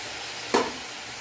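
Cauliflower and potato with spices hit a hot pan in one sudden sharp sizzle that bursts loudly and then fades into a quieter hiss over faint background noise.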